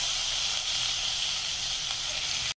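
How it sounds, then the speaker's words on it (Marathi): Fish frying in a pan gives a steady, bright, close sizzle and hiss that holds evenly for a few seconds before cutting off abruptly. "आता फिश आपला फ्राय झालाय."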